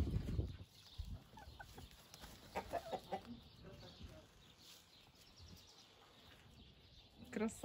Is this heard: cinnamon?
no